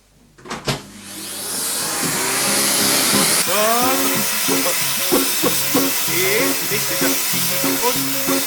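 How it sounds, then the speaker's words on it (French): A vacuum cleaner fitted with a soft brush attachment drones steadily and loudly over a MacBook keyboard after a short start-up, its tone shifting as the nozzle moves across the keys, with a few faint voice-like sounds underneath. "nous allons d'abord passer un coup d'aspirateur sur le clavier, parce que c'est aussi un nid à poussière"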